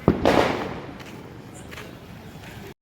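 Firecrackers burst during Diwali celebrations in a village, with one loud crackling blast up front and a fainter pop at the very end over a steady background hiss.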